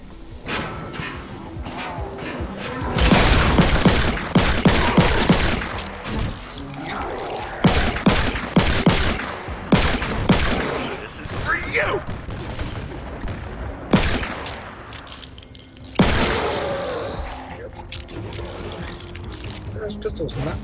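Pistol fire in the Fortnite video game: repeated sharp game gunshots and clattering impacts in quick bursts, loud and close, mixed with other in-game effects.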